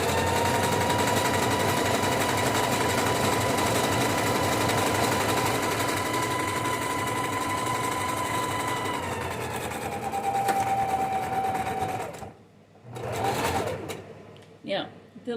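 A sewing machine runs steadily as it stitches fabric, a loud continuous mechanical whir that holds for about twelve seconds before stopping, followed by brief handling sounds.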